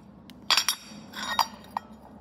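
Metal parts of a torque converter clutch from a Trailmaster Mid XRX off-road cart are slid back together, giving a few sharp, close metallic clinks and taps spaced irregularly over a quiet background.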